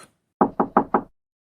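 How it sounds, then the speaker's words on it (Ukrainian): Four quick, crisp knocks on a wooden door, evenly spaced and close by, with silence before and after. "Та раптом в двері хтось постукав."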